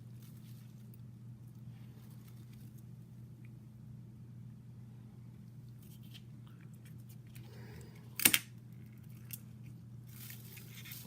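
A single quick slice as a blade cuts a small piece of polymer clay from the smallest mini template, one brief sharp click standing alone over a steady low background hum.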